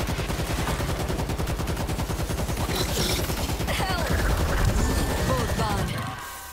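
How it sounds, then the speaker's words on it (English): Rapid automatic gunfire in the zombie shooter World War Z rattles in fast, continuous bursts, loud and close, with a voice briefly breaking in over the shots before the firing tapers off. "Oh god, I need to reload."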